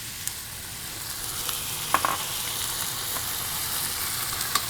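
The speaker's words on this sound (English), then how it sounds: "we're gonna add some red wine." Red wine poured into a hot pan of cooked-down tomato for braised short ribs hisses in a steady, close sizzle, with a few sharper spits and pops standing out.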